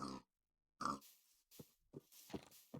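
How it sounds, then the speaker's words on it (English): Pigs in the Minecraft video game grunt and oink in several short, close bursts separated by brief pauses. "I was originally going to keep these pigs in my village when I redecorated it"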